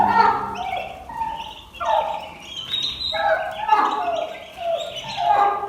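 A small colony of turkeys gobble in quick overlapping bursts, rising and falling in waves, loud and close with other birds chirping around them.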